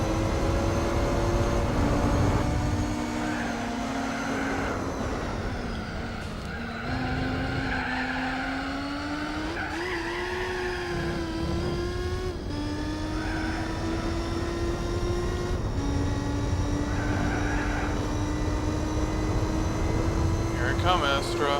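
Modified car engine in Gran Turismo 4, a steady droning engine note that rises and shifts through gear changes with tire skid noise, running continuously and loud throughout, with a voice talking over it.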